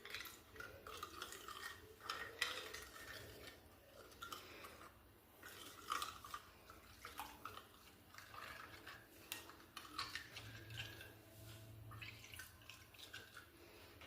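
A glass of water is poured over fish tagine ingredients in a kitchen, a quiet trickle and splash accompanied by light clinks of utensils and dishes.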